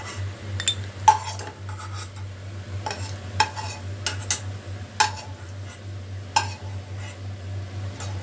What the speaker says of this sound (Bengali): কাজুটা আমার একটু লাল হয়ে গেলে একটু নেড়ে নামিয়ে নেব